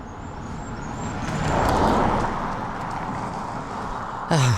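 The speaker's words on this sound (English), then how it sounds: "I'm walking down one of those country lanes without a footpath, so listen out for traffic." Car traffic on a narrow country lane with no footpath: a broad engine-and-tyre rumble swells and fades as a vehicle passes at moderate distance, with a sharp, louder clunk near the end.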